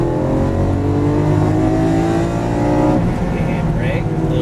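Lamborghini Aventador LP700-4 on a track course accelerating hard, its engine note climbing steadily in loud rising harmonics before easing off, heard close from inside the car with an instructor talking over it.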